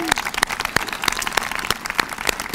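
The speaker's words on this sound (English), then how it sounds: "So how about joining me with a round of applause for these parents and grandparents?" Audience at a high school graduation ceremony clapping for parents and grandparents, a steady patter of scattered hand claps with sharper individual claps standing out, moderately close, with faint voices underneath.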